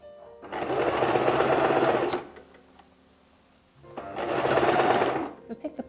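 A sewing machine stitches around the edge of bias tape on traditional iro and buba garment fabric, running in two loud, steady whirring bursts separated by a quiet pause, with a voice heard alongside.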